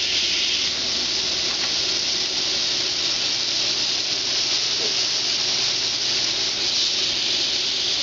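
Fajita steak meat sizzles in a hot pan, a loud, dense hiss that holds steady and close for several seconds with no one talking.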